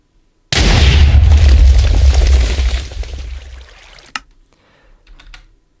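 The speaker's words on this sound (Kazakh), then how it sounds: "О, бұл деген салют!" A firework salute bursts loudly and abruptly, a dense crackling roar that slowly fades over a few seconds, followed by one sharp distant pop and faint crackles.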